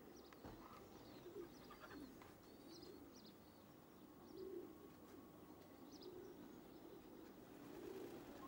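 A pigeon returning to its loft coos softly several times at a regular pace, with faint chirps of other birds in the background and no talking.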